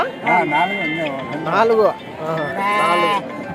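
Sheep and goats bleat repeatedly at a busy Tuesday livestock market in Kadiri, their wavering, nasal cries rising and falling close by in several overlapping bursts.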